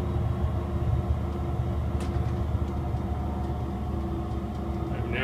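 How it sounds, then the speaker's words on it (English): A diesel locomotive in the TrainMaster Simulator game throttles down, a steady low rumble and drone with faint intermittent clicks, continuous and even throughout with no speech. "We must throttle down gently to avoid too much run in and run out of our train."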